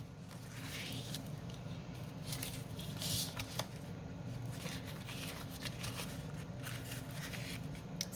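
Glued vintage book paper gets its edge trimmed, faint papery scraping and snipping rustles in a quiet room, with short crisp bursts scattered over a soft continuous shuffle, no speech.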